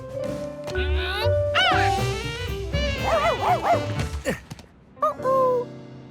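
Cartoon dog barking and yipping in short bursts within a busy animated soundtrack, with music and sound effects around it and a voice speaking near the end.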